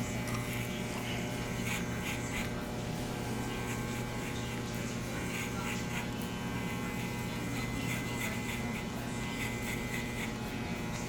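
Electric hair clippers buzz steadily through a fade haircut, a constant close droning hum with faint rubbing and clicking textures over it and no talk.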